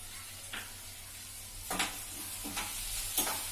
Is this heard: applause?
no